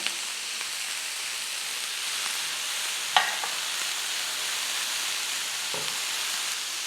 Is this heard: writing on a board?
no